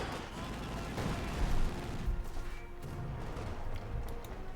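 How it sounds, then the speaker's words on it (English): Mortar barrages and gunfire in the strategy video game Company of Heroes 2, with German mortars pounding positions, forming a dense, continuous rumble of explosions and shots with a heavier burst around the middle. "Some they're constantly hit by the German mortar"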